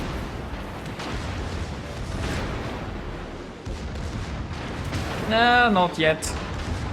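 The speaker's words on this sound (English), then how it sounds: "Now both front guns are taken out." Naval artillery fire from a battleship in World of Warships, a steady rumble of gunfire and blasts running through the clip while someone talks over it.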